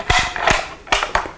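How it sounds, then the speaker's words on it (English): Enfield No.4 rifle bolt cycled near and loud, two quick metallic clack-and-slide strokes with a pause between, no talking. "The Enfield's bolt is legendary for its smoothness, quick operation."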